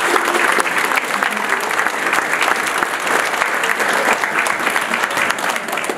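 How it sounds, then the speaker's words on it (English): Guests at a wedding ceremony applaud the mothers as they light candles. Dense, continuous clapping from a sizable crowd carries steadily throughout at a moderate level. "Can we please get a round of applause for the mummies and light these?"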